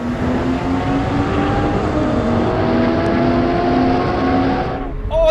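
A Porsche 911 GT3 and a Turbo S accelerate hard side by side in a rolling race in third gear, manual sports mode, producing a loud sustained engine roar with rising pitch before it cuts off abruptly near the end.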